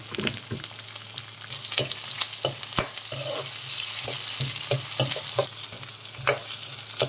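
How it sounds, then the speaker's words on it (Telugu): Urad dal, onions and green chillies fry in a pan for tomato upma, a constant close sizzle broken by frequent scraping stirs of the spatula, with no voices. "ఇవి ఒక 2 మినిట్స్ ఫ్రై చేసుకొని"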